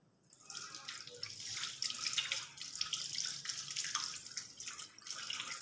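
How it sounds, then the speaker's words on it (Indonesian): Tap water runs steadily into a sink as hands are rinsed during a handwashing demonstration, a soft continuous splashing stream that stays moderately quiet throughout with no talking. "lalu bilas dengan air yang mengalir"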